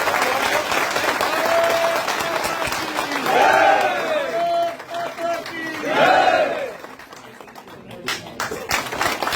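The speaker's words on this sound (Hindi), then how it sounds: "जोरदार ताली मारो।" A crowd claps loudly and steadily at a BJP political event at party headquarters. The applause runs throughout, with amplified voices calling out over it and swelling twice before settling into scattered claps.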